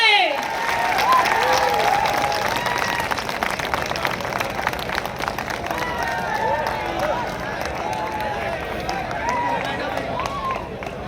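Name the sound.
applause welcoming the Governor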